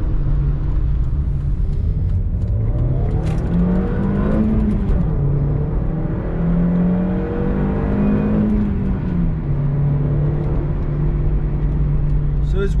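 An Audi TT accelerating hard: a loud, close engine note climbs steadily through the revs, dips at a gear change, then rises again before settling into a steady drone.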